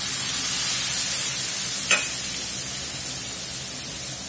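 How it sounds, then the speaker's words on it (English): Beef broth poured into a hot pan to deglaze it for Cajun stuffed bell peppers, giving a steady broad sizzle throughout with one brief sharper hiss near the middle, close and fairly loud with no voices. "I'm going to add a little bit of beef broth here just to deglaze and get those goodies off the bottom."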